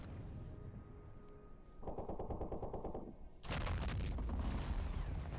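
Battlefield fire in the World War I strategy game Battle of Empires 1914-1918, set at the Marne: rapid machine-gun bursts rattle over distant shots, then a dense, loud barrage of overlapping gunfire and booms takes over.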